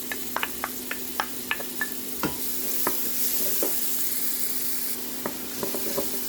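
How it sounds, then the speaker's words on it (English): Garlic and onion frying in a pan for arroz caldo, a steady sizzle under a series of sharp clinks and scrapes from stirring, close and fairly loud, with no voices. "Let's fry all together and let's wait until our garlic and onion turns to golden brown"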